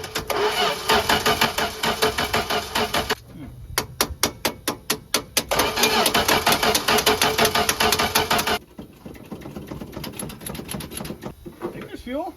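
A 1978 Plymouth Volare engine cranks repeatedly on a jump start button, rhythmic loud starter chugging in long bursts with short pauses between, not catching, as a person talks nearby.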